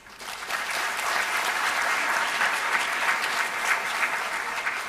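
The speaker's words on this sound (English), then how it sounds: "A very hearty and deserving applause to all of you." Sustained applause from a large audience at a university convocation ceremony at a national law university in Delhi, swelling quickly and holding steady at a full, even level.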